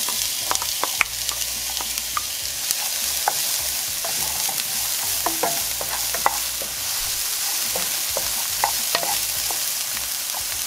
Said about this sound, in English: we're gonna go ahead and saute our onions and our garlic